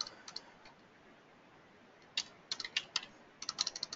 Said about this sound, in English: and type in Jack Wilson. And then you could type in the next name